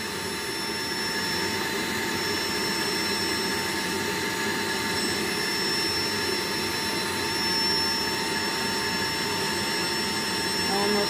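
A Rainbow SRX vacuum cleaner runs on bedding and blankets with a loud, steady, high-pitched motor whine and airflow roar that holds unbroken throughout.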